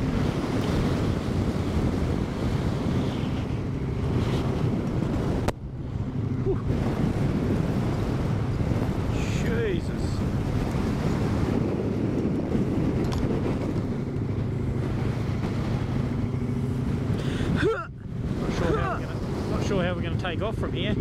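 Strong, steady wind roars across an open gorge road on a New Zealand motorcycle trip, with gusty buffeting and microphone wind noise throughout, while riders talk briefly over it.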